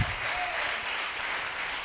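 A church congregation applauds during a praise and worship service, a steady wash of clapping at moderate distance with no distinct voices.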